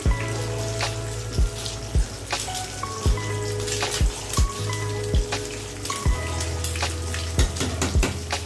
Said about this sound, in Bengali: ডিমটা একটু ঝুড়ো ঝুড়ো করে ভেজে নেব।